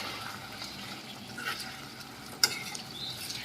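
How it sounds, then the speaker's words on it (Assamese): Pork mixed with chopped chilli and Naga coriander is stirred slowly in a pan, giving a gentle sizzle and soft scraping and one sharp utensil clink partway through, with no talk. "কাটি লোৱা জলকীয়া আৰু নগা ধনিয়াখিনি মাংসখিনিৰ লগত মিক্স কৰি দিলোঁ ধুনীয়াকৈ লাহেকৈ লৰাই দিছোঁ"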